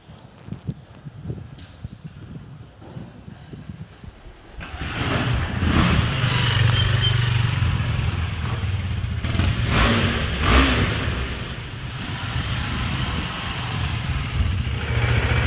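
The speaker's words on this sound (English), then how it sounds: "We'll try to push start it today." A KTM Duke 390 motorcycle is push-started in second gear after long storage with a drained battery; quiet rolling and scuffing give way around four seconds to the engine catching and running loudly, with repeated revving bursts close by.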